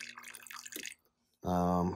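Water trickles weakly from the dispenser of a Maytag, Whirlpool or KitchenAid refrigerator with a saddle valve and low water pressure, a soft, close dribble that fades out, then a louder hum starts near the end.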